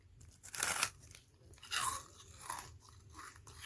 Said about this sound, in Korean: 진짜 파삭파삭해. 너무 맛있어.